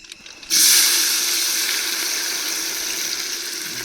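Onion, tomato and green chilli hit hot oil in a frying pan while cooking mandakki oggarane, a sudden loud sizzle bursting in after a quiet moment and settling into a steady hissing fry.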